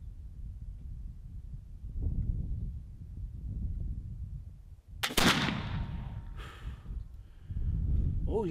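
A black powder flintlock rifle loaded with 60 grains of 3F and a .530 round ball fires once, a loud sharp blast with a trailing rumble, amid low outdoor background noise.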